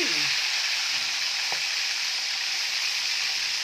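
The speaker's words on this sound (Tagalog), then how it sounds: "Mainit ng ating kawali. Ayan, lalagyan na natin ating tilapia." Tilapia, seasoned with salt and pepper, sizzles loudly and continuously in a hot kawali, up close, with a couple of faint clinks at the start and no speech.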